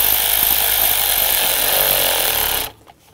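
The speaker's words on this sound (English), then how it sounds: "Now we'll tighten the worm clamp down." A loud, close power tool whirs continuously while the worm clamp on a Ford F-150 water pump hose is tightened, then cuts off abruptly near the end.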